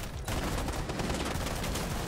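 Gunfire in the video game Rainbow Six, a dense, continuous burst of loud shots filling the whole moment, close and harsh with no pauses.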